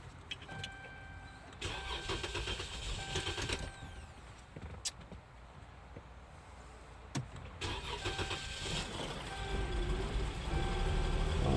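A 2011-2020 Dodge Durango's 3.6L Pentastar V6 cranks and starts, then runs with a steady mid-pitched engine drone that grows slightly louder toward the end, up close and without talk.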